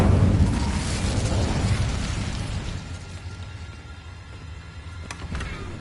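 An Incendio fire spell bursts in a Hogwarts game with a loud booming blast that decays into a fading rumble, followed by faint crackles near the end.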